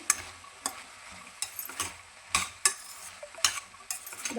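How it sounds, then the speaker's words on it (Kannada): Vegetable pulao mix stirred in a pan with a spatula: a steady run of sharp scraping strokes, roughly every half second, close and clear, with no talking. "ಅಲ್ಲಿ ತರಕಾರಿ ಎಲ್ಲ ನೀಟಾಗಿ ಮಿಕ್ಸ್ ಮಾಡ್ಕೊಳ್ಳಿ"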